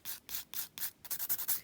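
A nail file rasps back and forth over gel nail finish in about eight quick, even strokes, close and fairly soft, with no voice.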